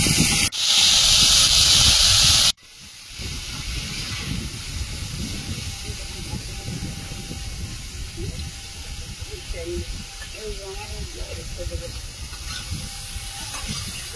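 Fish frying in hot oil in a home kitchen, a steady close sizzling hiss that runs throughout, with a louder, harsher burst in the first couple of seconds.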